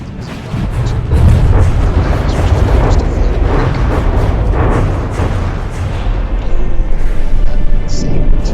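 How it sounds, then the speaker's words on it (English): Missiles launch in a large volley in the From the Depths arena game, heard as dense, continuous booming and rumbling blasts that stay loud throughout, with a slight surge near the end. "that next huge volley of missiles is away"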